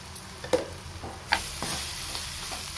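Tamarind leaf curry with raw mango in a pan gives a soft, steady sizzle. A couple of light stirring knocks sound close by, with no talk.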